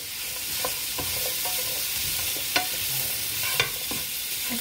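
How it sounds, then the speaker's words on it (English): Onion caramelizing in a hot pan for Vietnamese pâté, a continuous close sizzle punctuated by a few sharp clicks and taps of a utensil stirring. "toss in your onion, let that caramelize"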